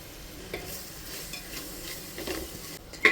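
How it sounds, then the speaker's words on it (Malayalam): Sliced onions frying in a pan for a chicken dish: a low, steady sizzle broken by repeated scraping strokes of a spoon, with a sharper knock at the end. "സവാള ഇടുന്നുണ്ട്. റോസ്റ്റ് ആവുന്നതിനനുസരിച്ചിട്ട് അത് വിട്ട് മാറി കിട്ടിക്കോളും."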